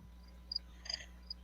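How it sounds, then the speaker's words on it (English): Crickets chirp outside a house at night, a few brief, faint high trills scattered over a steady low electrical hum, with no voices. "We can hear the cricket."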